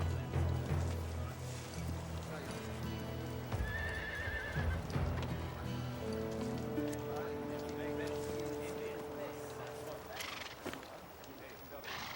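A horse whinnies loudly nearby, its high neigh rising midway, with hooves shuffling and a low murmur of voices underneath.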